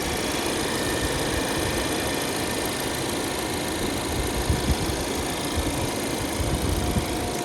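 A Vauxhall Insignia engine runs at a steady idle, a continuous even hum with a faint rapid ticking, close by and unchanging for several seconds.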